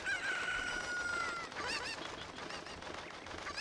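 Cuccos, the chickens of Zelda: Ocarina of Time, crow with a long held cock-a-doodle-doo and then cluck repeatedly, loud and close throughout, with no talking.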